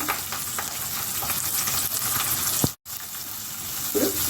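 Chopped onions, green chillies and curry leaves fry in hot oil, a loud close crackling sizzle with stirring, broken by a brief dropout near the end.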